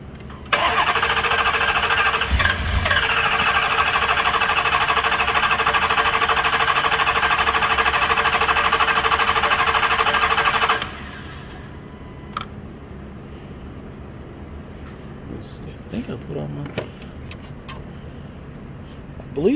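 A 2013 Dodge Charger 5.7 Hemi with a misfire cranks and catches, running loud and steady for about ten seconds before shutting off, leaving quieter clicks and shop movement.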